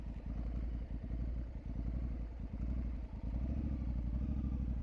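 Honda Africa Twin motorcycle being ridden, its engine giving a steady low rumbling thrum with a pulsing rhythm, close and continuous throughout, with no talk.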